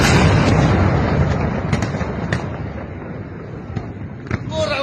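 An Iranian missile strike explodes at a chemical factory in Tel Aviv: a loud, dense, rumbling roar with scattered sharp cracks and bangs, fading a little before swelling again.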